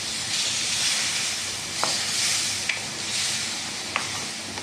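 A glass of water poured into a hot pan for soya chunk curry sends up a steady, close hiss of steam and sizzle, with a few faint clicks over the continuous noise.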